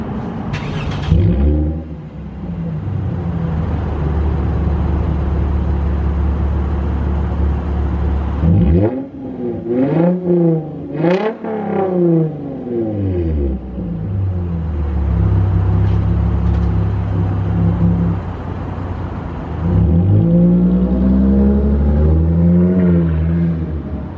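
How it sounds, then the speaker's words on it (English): A Lexus IS250 with an aftermarket exhaust idles with a steady low rumble, then revs repeatedly in rising and falling bursts before settling back to idle, loud and close by. "I think it's probably the best sounding exhaust, where it brings the best, I guess, roar out of the engine"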